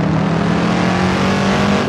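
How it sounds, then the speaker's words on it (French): A Shelby Cobra 427's big American V8 drones loudly with a deep steady rumble, close up and unbroken, on a track setting with no talk over it. "un gros V8,"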